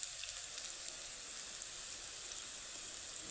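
Soybean and mung dal koftas fry in hot oil, giving a faint, steady crackling sizzle with small pops scattered throughout and no voices.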